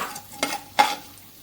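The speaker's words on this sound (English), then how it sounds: "Let's add the mustard seeds and the jeera," Mustard seeds and cumin (jeera) drop into hot oil, giving two short, sharp crackling bursts close by, then a faint residual sizzle.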